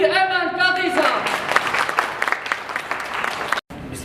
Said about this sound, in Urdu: آپ کی بھرپور تالیوں میں، بھرپور کلیپنگ میں تشریف لاتے ہیں